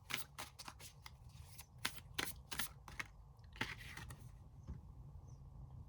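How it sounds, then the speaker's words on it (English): Oracle cards are shuffled and handled up close, with quick crisp riffling bursts and soft flicks in an irregular rhythm over a faint low background hum, with no talking. "so let's get some oracle cards out"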